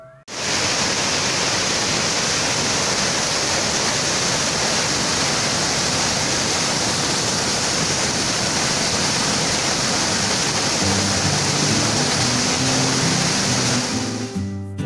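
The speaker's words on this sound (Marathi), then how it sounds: "ओढ्यावर धबधब्याचे स्वरूप" Loud, steady rush of a stream swollen by heavy rain, pouring like a waterfall, roaring without a break over rocks, at Posewadi, Khanapur.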